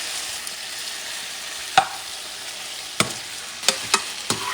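Beef frying in a pan for Russian buckwheat with meat gives a steady close sizzle, broken by a handful of sharp pops and spatters.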